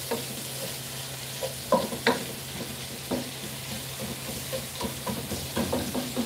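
Onion frying in a pan that already holds garlic for a Valenciana rice dish gives a soft, steady sizzle, with scattered stirring knocks and scrapes at a moderate distance.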